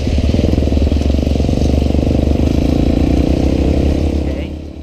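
A railroad switcher locomotive's diesel engine rumbles loud and close with a steady, throbbing chug, then fades slightly at the end as it passes.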